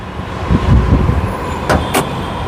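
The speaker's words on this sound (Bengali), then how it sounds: "আমি প্রতিটা গাড়ি কিন্তু স্টার্টে রাখি যে আপনারা যেন গাড়ির শব্দটা বুঝতে পারেন" A used Honda Grace Hybrid car engine idles with a steady low hum close by, and two sharp clicks sound near the end.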